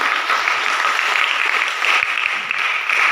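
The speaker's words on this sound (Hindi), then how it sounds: "एक बार जोरदार तालियां मिलती हैं" Dense, continuous applause from an audience at a school NCC event honouring soldiers, many hands clapping together loudly and steadily with no voices over it.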